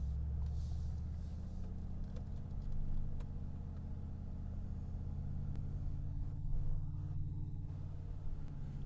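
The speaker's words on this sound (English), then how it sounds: "we're going to take the G Wagon for a little drive" Mercedes-AMG G63 G Wagon engine droning steadily from inside the cabin while driving, a continuous low rumble with slight swells, no talking.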